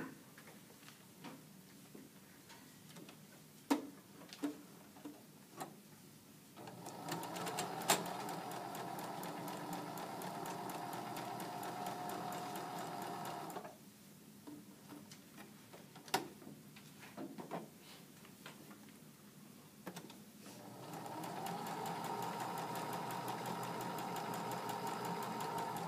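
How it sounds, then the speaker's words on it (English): A sewing machine stitches an eighth-inch line around a shirt sleeve placket slit, its needle running in steady, fast ticking bursts that stop and restart, fairly faint and with no talking. "you need to sew the 1/8 inch around the slit to reinforce it before you cut it open"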